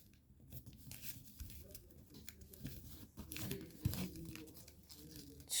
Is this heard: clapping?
no